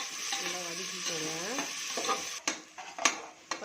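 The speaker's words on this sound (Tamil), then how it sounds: "அதில் வந்து ஒரு பொன்னிறம் ஆகிற வரைக்கும் நல்லா வதக்கிக்கோங்க." Vegetables and green chillies for veg biryani sautéed in a pan until golden, a soft sizzle with a few sharp spoon scrapes and taps near the end, no speech.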